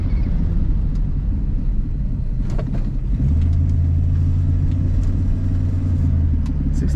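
A 1965 Ford Mustang drives along, its engine a steady low rumble that deepens and grows heavier partway through, with faint road noise and small knocks over the top.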